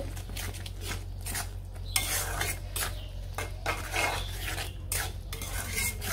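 Turmeric and dried chili powder fry in a cooking pot for a fish-head muri ghonto while a utensil stirs and scrapes. A continuous sizzle runs beneath repeated metallic clinks and scraping strokes.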